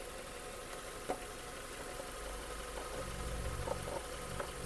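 A Hyundai Tucson 2.0 gas/petrol engine idles steadily at low volume, a constant low rumble with a few faint clicks and knocks from the engine bay.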